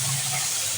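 Water sprinkled into a hot wok with a little oil makes a loud, continuous steam hiss, close up and unbroken for under a second, with no talking.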